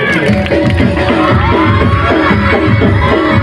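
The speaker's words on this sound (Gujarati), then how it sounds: "તાળીઓના ગળગડાટથી વધાવી લઈશું" A festive crowd at a village celebration in Chhabliya greets a team's entrance with loud, continuous cheering and clapping, shouts and whoops rising over dense babble.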